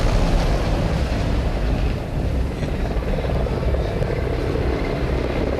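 Mi-17 helicopters passing over a military parade at the Pakistan Day celebrations, a steady loud roar of rotors and engines with wind buffeting, filling the whole stretch without pause.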